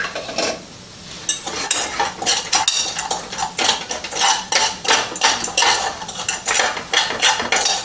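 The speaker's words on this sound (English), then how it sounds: "So you fluff the rice with a fork." Cooked rice fluffed with a fork in a pot, giving a close, busy series of scraping and clinking strokes in a steady rhythm.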